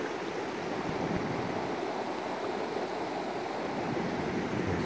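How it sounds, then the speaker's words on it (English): Carrick Creek, a mountain creek in the Sierra Nevada, rushing steadily with a dense, even wash of flowing water close by, no talking. "This is Carrick Creek."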